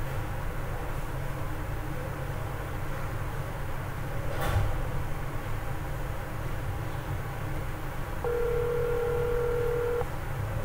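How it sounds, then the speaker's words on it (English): An automated test call to a mobile phone on a cellular network: a faint steady background hum, then a brief click, and near the end a clear electronic ringback tone. "It's ringing"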